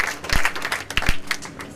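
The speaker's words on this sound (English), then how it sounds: "please give Andrew a round of applause" Applause from an audience at a Mayor on Main event honouring an executive director, a scattered crowd clapping close by, with a few sharper individual claps standing out over about two seconds.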